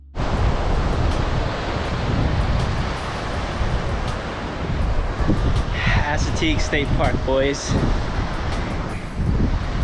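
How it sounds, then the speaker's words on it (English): Ocean waves crashing steadily on the beach at night at Assateague State Park, a continuous broad wash of surf with wind buffeting the microphone and someone speaking briefly over it near the end. "the waves crashing the beach at night"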